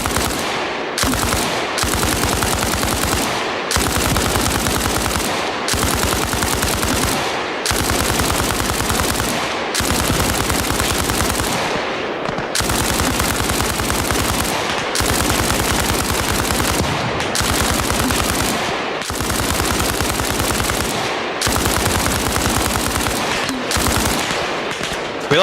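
Sustained machine gun fire in the Arma Reforger military video game, loud and close, comes in long continuous bursts separated by brief pauses, repeating for the whole stretch with no talking.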